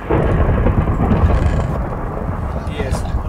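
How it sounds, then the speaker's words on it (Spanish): Thunder rumbles in the Minecraft video game, a loud, sustained low roar that fills the whole moment like a storm rolling overhead, with faint voices mixed underneath. "está tronando."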